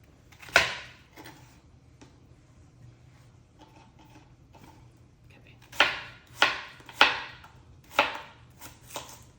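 A knife chopping onion on a board, a few sharp isolated thuds at first, then a quick run of five or six close, crisp chops, with faint background noise and no talk.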